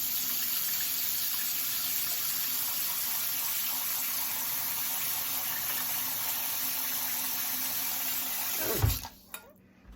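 Water runs from a kitchen tap in a steady, close rush as food is rinsed, then stops sharply near the end, leaving a few drips and clatters.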